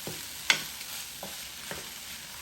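Chicken fried rice being stirred in a Power XL cooker, a few scraping utensil strokes with a soft sizzle underneath, quiet and close with no talking.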